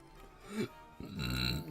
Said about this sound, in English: Protein shake is making me burp.